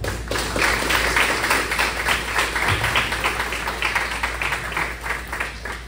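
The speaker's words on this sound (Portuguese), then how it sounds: "Uma salva de palmas para Jesus." A church congregation applauds at a Sunday Baptist service, a dense, steady wash of many hands clapping together for several seconds in a reverberant hall, with no voices standing out.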